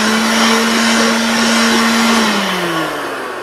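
An Einhell blower clears sawdust off a woodworking workbench, giving a loud, steady airy whine that runs continuously and then tails off slightly in pitch near the end.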